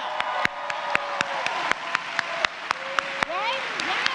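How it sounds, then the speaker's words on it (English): Rally crowd applauding steadily throughout, a dense wash of clapping with scattered sharp claps standing out and voices in the crowd. "Everybody should be clapping right now."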